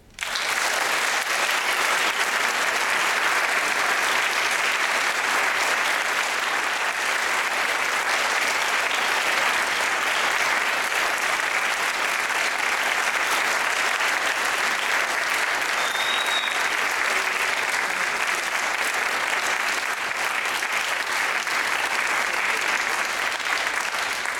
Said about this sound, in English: Let's give a big round of applause to the U.S. Army.